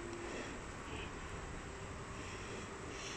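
A train moving past the platforms at Genova Piazza Principe station, a continuous heavy rumble and roar that stays loud and steady throughout, with no talking.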